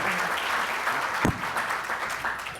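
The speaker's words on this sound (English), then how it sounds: "Can we give our panelists a round of applause?" Applause for the panelists continues from a conference audience in Michigan, a dense, even clatter of many hands with one brief low thump near the middle, fairly steady and unbroken.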